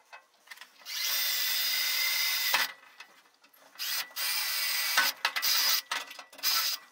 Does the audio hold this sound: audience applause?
no